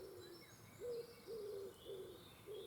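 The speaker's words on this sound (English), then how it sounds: "All the crows, all the birds in the background, creating quite a lot of noise." Birds call in the background outdoors, with a faint, distant series of repeated low cooing or hooting notes coming in regular pulses over soft ambient noise.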